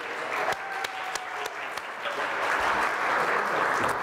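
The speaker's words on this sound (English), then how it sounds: "A round of applause, please, one last time for everyone's hard work." A warm round of applause from an audience at a grand opening ceremony for a college resource room, clapping steadily and building slightly louder toward the end.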